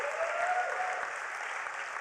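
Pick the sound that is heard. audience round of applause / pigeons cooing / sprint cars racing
audience round of applause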